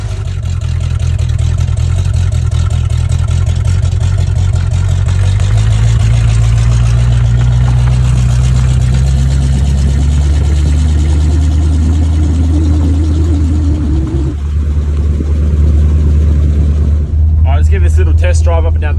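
A Holden UC Torana with a 253 engine pulls away on a test drive, its deep engine rumble rising in pitch as it accelerates, loud and close, with people talking over it.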